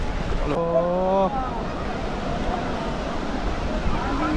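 A motor boat sets out from Digha's Udaipur beach onto the sea, its steady engine drone mixed with wind buffeting the microphone and a brief horn-like tone near the start.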